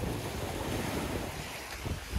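Black Sea surf along the Sochi shore, a steady broadband wash of waves mixed with wind buffeting the microphone, loud and continuous with no voices.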